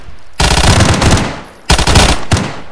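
Automatic gunfire in a roleplay video game, two loud, close bursts of rapid shots separated by a short pause, with no voices.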